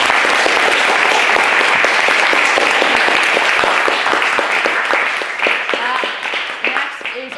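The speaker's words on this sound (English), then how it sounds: "he deserves a big round of applause" A debating society audience gives a big round of applause for a fellow member, a full, loud wash of clapping that holds steady, then thins and fades over the last couple of seconds as voices start to come through.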